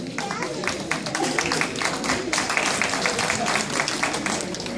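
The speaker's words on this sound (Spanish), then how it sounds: "Qué bonito, las palmas entonces." An audience at a spring dance gala claps in dense, continuous applause, with a voice speaking over the crowd throughout.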